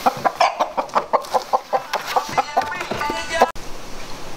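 A chicken with an infected wound near its crop clucks in quick, rhythmic bursts, close and fairly loud, about a dozen pulses before settling into softer chatter.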